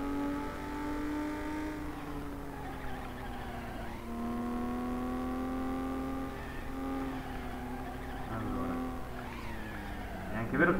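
Car engine droning and shifting pitch in the FlatOut racing game as the car drives and slides, steady and close, with occasional tire skid noise.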